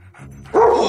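A dog barks loudly in a single short burst after a brief quieter lead-in, close and alone with no talk over it, in a comedy film scene.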